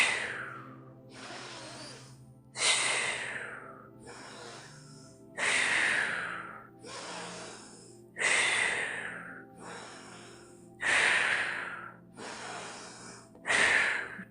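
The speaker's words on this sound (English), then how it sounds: "we're going to do that breath quickly 10 times" Rapid, forceful breathing exercise during a restorative yoga flow: sharp, loud forced exhales roughly every one to two seconds, alternating with softer inhales, close and alone over a faint steady hum.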